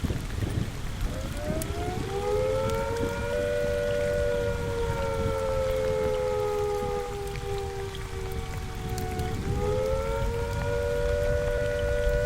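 A civil defense attack warning siren from Fallout 4 TV audio rises and holds a wavering steady wail, dipping and climbing again, over constant rainfall in the background.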